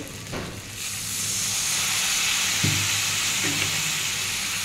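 Ginger-garlic paste and dry spices sauté in a pan with a splash of water while bitter gourd curry is cooked, giving a steady close sizzle with a few soft stirring scrapes and no talk.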